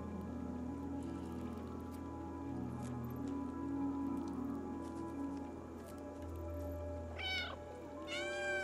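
Two quick cat meows near the end, triggered by a controller button in the video game Stray, rising over a steady low ambient game hum.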